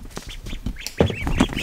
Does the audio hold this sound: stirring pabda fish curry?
no